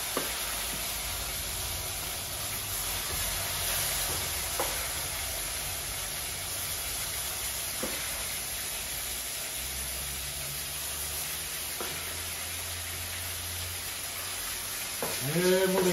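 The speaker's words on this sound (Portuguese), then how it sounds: "Já temperei. Agora vamos fritar." Seasoned boneless meat frying in a pan gives a steady, close sizzle and hiss that runs throughout, with a few faint clinks and soft background voices toward the end.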